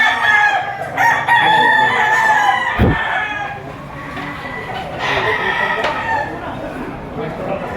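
Roosters crow over a busy chorus of clucking hens at a livestock auction market in Lipa, Batangas, loud and close, with a sharp knock partway through and a person talking in the background.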